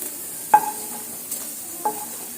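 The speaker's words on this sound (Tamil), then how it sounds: "அடுத்தது நம்ம துருவி வச்ச நெல்லிக்காய் இதையும் சேர்த்துக்கலாம் இது கொஞ்சம் எண்ணெய் இருக்குது அந்த எண்ணெயிலேயே சேர்த்துக்கலாம்" Grated amla (Indian gooseberry) stirred into a little hot oil in a pan, giving a soft steady sizzle with three brief scraping stirs spaced about a second apart.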